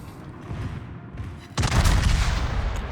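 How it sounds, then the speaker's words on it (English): Main guns of the German battleship Tirpitz in World of Warships fire in a heavy, booming salvo after a quieter stretch of ambient rumble, the blast rolling on with sustained thunderous reverberation. "All guns, open fire."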